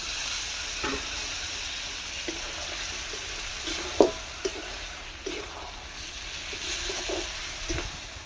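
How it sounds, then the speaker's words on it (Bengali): Soft sizzling in a wok of chicken with scattered clinks and a brief splash, as water from a rinsed bowl is poured in; close, moderate level. "বাটিটা ধুয়ে জল দিয়ে দিচ্ছি"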